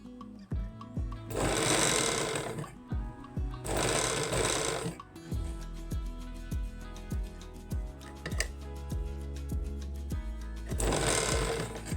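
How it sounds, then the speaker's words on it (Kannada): A sewing machine stitching a blouse runs in three loud, close bursts of rapid whirring, with slow single needle thumps and mechanical ticks in the pauses between them. "ನಿಧಾನವಾಗಿನ ಸ್ಟಿಚ್ ಮಾಡ್ಕೊಳ್ಳಿ"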